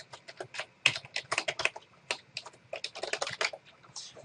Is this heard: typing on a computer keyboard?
yes